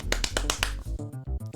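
Sharp hand claps mimicking the clap cue from the Donkey Konga game, about five quick evenly spaced claps up close, followed by softer sounds.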